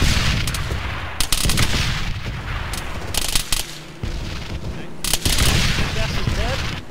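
Heavy gunfire in Arma 3 cracks in repeated sharp bursts and single loud shots, some booming like tank fire, spread unevenly across the stretch as people talk over the shooting.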